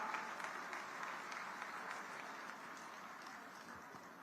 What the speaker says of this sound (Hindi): तालियां बजा के स्वागत करेंगे सभी